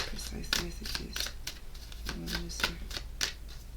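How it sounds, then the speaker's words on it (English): Tarot cards shuffled by hand in a quiet room, a string of quick papery riffles and snaps repeating every half second or so, close and fairly soft, with a voice speaking faintly underneath. "as I shuffle the cards, let's see what comes out."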